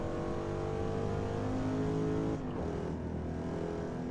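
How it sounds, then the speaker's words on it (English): A Corvette engine drones steadily in the GT7 racing game, a continuous layered hum that drops in pitch partway through as the car shifts or eases off, with no voices over it. "I'm really enjoying driving this Corvette."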